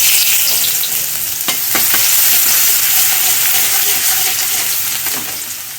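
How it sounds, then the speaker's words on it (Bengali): Garlic sizzles loudly in hot oil in a pan while chilli chicken is cooked. A steady, dense frying hiss carries on alone throughout, with a few soft clicks of stirring. "এবার রসুন দিচ্ছি।"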